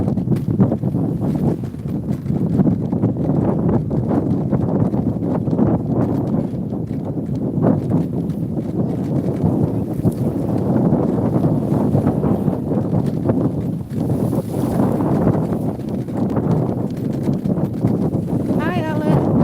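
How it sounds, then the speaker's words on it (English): Strong wind gusting along a seaside promenade at high tide in Maryport, a loud continuous rumbling roar buffeting the microphone throughout, with a voice talking underneath. "The wind's starting to drop a little now."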